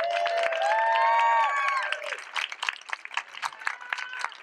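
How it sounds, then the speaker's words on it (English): A rally crowd at a Whole Washington event applauds Chelsea, with loud whoops and cheering voices over steady clapping at first, then the voices drop away and scattered, uneven claps continue. "let's give Chelsea another round of applause"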